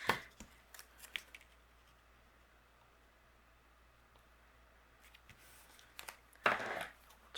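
Scissors trim excess card stock in a quiet crafting setting, a few faint snips near the start and a louder rustling cut toward the end, with no talk.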